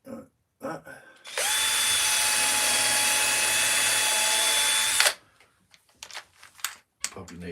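A power drill whines at a steady high pitch for about four seconds while drilling into wood, then stops, with brief scattered knocks and handling noises before and after.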